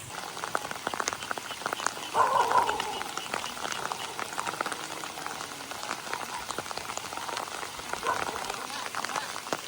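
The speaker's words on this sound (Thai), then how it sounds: "มันฝนตกแล้ว" Steady rain patters and drizzles throughout over rice paddies during planting, with a brief burst of croaking frogs and faint voices in the background.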